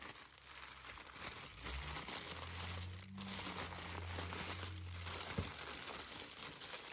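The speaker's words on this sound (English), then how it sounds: "Just unwrapping the battery charger here with the Canon battery." Packaging for a Canon battery charger and Canon battery crinkles and rustles as it is unwrapped up close, with continuous crackling plastic and paper handling throughout.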